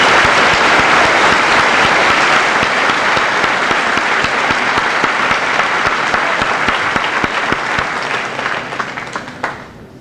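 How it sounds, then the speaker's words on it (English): Loud, sustained applause from a high school senior assembly audience, many hands clapping densely and steadily for about ten seconds before tapering off near the end. "let's give this young man a nice round of applause"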